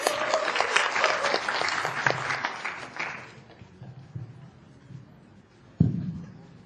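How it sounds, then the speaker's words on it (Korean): An audience at a university student presentation on presidential qualifications applauds to welcome a student speaker: dense, loud clapping for about three seconds that then fades out, followed by a single knock or thump near the end. "큰 박수로 환영해 주시기 바랍니다."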